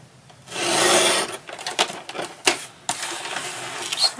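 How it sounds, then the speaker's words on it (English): Close, sharp scraping and slicing of a craft blade cutting out the center of a piece of paper for a laminated bookcase craft, one long rasping stroke followed by shorter cuts and taps, with no talking. "I just use my blade to cut out the center of this one"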